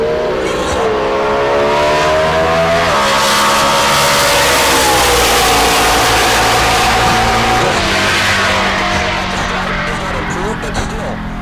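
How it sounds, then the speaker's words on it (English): Ted Woodman's drag racing Chevrolet Impala, now on its third engine, a naturally aspirated small-block under 434 cubic inches, roars loud and sustained with shifting engine pitch over a track announcer speaking throughout at Heartland Park Topeka. "Ted Woodman in the Impala in the right lane apparently now is on his third engine"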